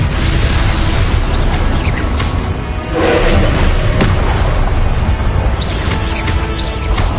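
Fire-blasting spell explosions in a fantasy wizard action game, a dense, continuous roar of booming blasts and crashes with a swelling burst near the middle, loud and without speech.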